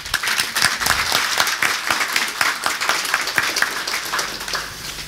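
Audience applause for Staffan Larsson at a talk, a dense, steady round of clapping from a crowd that carries evenly through the whole stretch and eases slightly toward the end.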